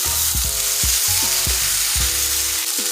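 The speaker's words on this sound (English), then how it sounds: "I'm just gonna let this continue to brown up." Food browns in broth in a hot pan, a dense, continuous close-up sizzle with soft, regular knocks and scrapes of stirring throughout.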